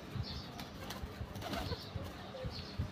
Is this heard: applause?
no